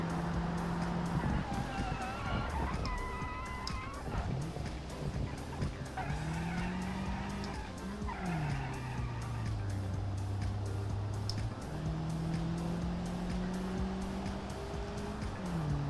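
A Toyota Camry races in the video game BeamNG, its engine droning and rising and falling with gear shifts, and tires squeal now and then in a steady stream of game audio.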